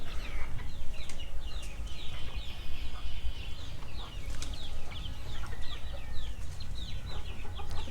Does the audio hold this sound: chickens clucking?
yes